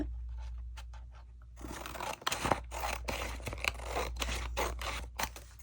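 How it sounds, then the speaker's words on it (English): Scissors cut through a book title page being trimmed into a bag pocket, giving a run of close, crisp snipping and paper scraping, with no talk. "And then I want to cut this side to be about the same as that."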